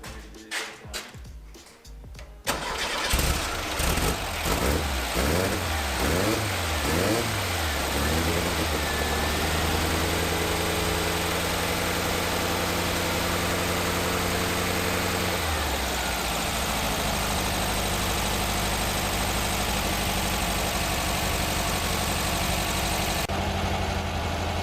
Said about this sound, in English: Let's hear this brand new crate motor.